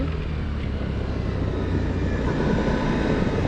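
Steady, continuous engine drone with a low rumble from a Suzuki V-Strom 1050 XT twin-cylinder motorcycle, loud and close, running without a break and no voices.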